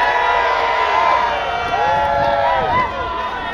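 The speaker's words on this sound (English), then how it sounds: "please give King Bong a cheer on 3" A 420 Victoria crowd cheers for King Bong on a count of three, a loud, dense burst of shouting and whooping voices that swells and then settles over a few seconds.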